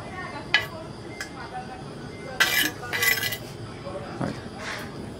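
Roasted seeds are moved into a bowl with scattered light clinks and taps of utensil on dish, including a louder rattling pour in the middle, over quiet background.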